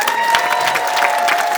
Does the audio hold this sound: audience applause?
yes